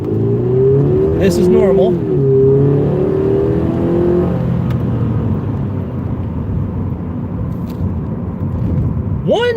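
A car engine in cold weather revs up and holds a steady high drone, with a person speaking briefly over it early on.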